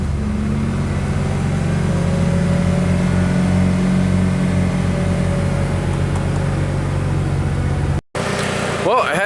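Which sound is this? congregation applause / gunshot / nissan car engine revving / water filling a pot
nissan car engine revving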